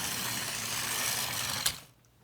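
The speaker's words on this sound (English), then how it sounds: "When he stopped, Thomas's brake sounds like this." Brake of the Thomas the Tank Engine steam locomotive at a dockside halt: a steady broadband hiss and grinding for nearly two seconds, a sharp clank near the end, then a fade to quiet.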